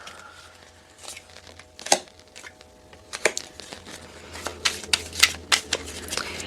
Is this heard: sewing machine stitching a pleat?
no